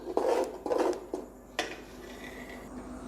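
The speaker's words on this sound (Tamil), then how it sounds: "நல்லா இதை வந்து கட்டி இல்லாமல் கிளறிடுவோம்." Athirasam flour dough being stirred in a heavy pot, a few dull scraping knocks from a utensil against the vessel, close and fairly quiet, then fading into a low background hum.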